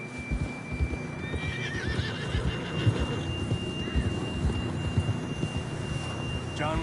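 A horse whinnies and snorts over steady clip-clopping hooves while riding in the Red Dead Redemption 2 video game, with low rumbling ambience throughout.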